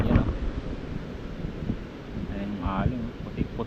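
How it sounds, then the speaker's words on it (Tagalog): Strong surf and gusty wind on a shoreline during shore casting in the Philippines, a steady roar of waves with wind buffeting the microphone throughout, and a voice speaking briefly over it. "medyo malakas na talaga yung alon tsaka yung hangin."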